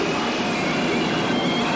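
Train from The French Connection rushing along with a dense, steady roar of rolling wheels and rail noise, loud and continuous throughout with no talk.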